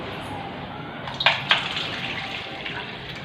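Water being poured off soaked chana dal (split chickpeas) for a dhoka recipe, a soft continuous trickling with a couple of brief splashy spurts near the middle, fairly quiet and without talk.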